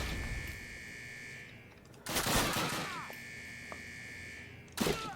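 Gunfire in a Call of Duty battle at the Eder dam, heard as a few loud bursts separated by stretches of steady background hum, with a sharp crack near the end.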